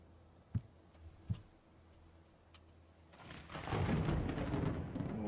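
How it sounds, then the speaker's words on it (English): A thunderstorm in Escape the Pacific brings two soft thumps, then a swelling roll of thunder that rumbles loudly through the second half. "oh, that thunderstorm's still there."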